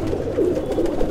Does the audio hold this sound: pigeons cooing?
yes